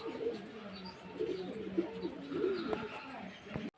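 Caged pigeons coo in soft, repeated low phrases at close range over a faint background hum.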